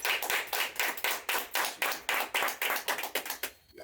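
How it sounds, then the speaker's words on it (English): Close, evenly spaced handclaps from a small studio group on a podcast set, about a dozen sharp claps in a steady rhythm that stop abruptly. "let's give a great round of applause for Guddafilms in the building"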